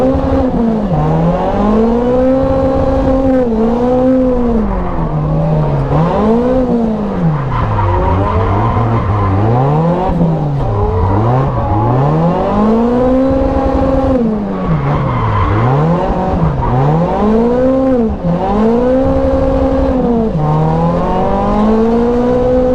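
A supercharged Toyota AE86 drifts at a grassroots drift event, its engine rising and falling in repeated swooping revs while tires squeal loudly and continuously throughout, close and intense.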